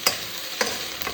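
Onion noodles coated in spicy ketchup are stirred in a pan, three quick scraping strokes over a soft steady sizzle, close up with no one speaking.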